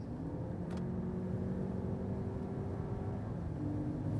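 Lexus RX 500h F Sport hybrid SUV accelerating on a German Autobahn from about 130 km/h, a steady engine and road drone with tonal harmonics that shift upward, continuous and moderately loud from inside the cabin, no talk.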